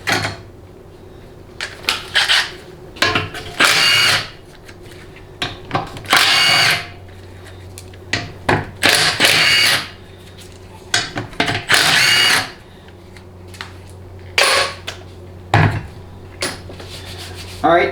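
Power drill or impact tool spinning out half-inch distributor bolts during a Ford C6 transmission teardown, in repeated short bursts with pauses between, close and fairly loud, alone without talk.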